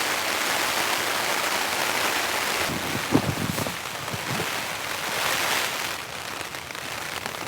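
Rain hammers a tent on a stormy camping night, a steady broadband patter with a few sharper splashes and drips near the middle, then a brief gust-like swell before the downpour settles back.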